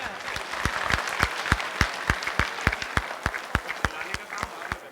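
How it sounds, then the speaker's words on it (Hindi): Applause at a club gathering during an eye camp event, with distinct individual claps ringing out at a brisk, fairly even pace over a soft crowd murmur. "कृपया जोरदार तालियों से स्वागत"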